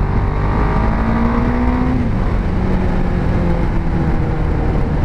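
A KTM 690 Duke single-cylinder motorcycle engine runs loud and steady. Its pitch climbs in one rev, then settles back to a continuous drone, with no talking.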